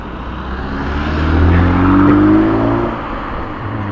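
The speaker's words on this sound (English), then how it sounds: "I'm just waiting for the cars to go across here" Traffic on a road rolls past at close range, a steady engine and tire roar that swells as a car goes by and then eases off, with no talking.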